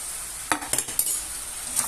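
Ingredients are stirred in a frying pan over a steady sizzle, with a handful of sharp utensil scrapes and clinks close by and no voices.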